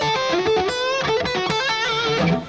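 Distorted electric guitar tone with a treble bleed circuit keeping it bright at lowered volume, played as a continuous sustained chordal and melodic passage, loud and close, no talking.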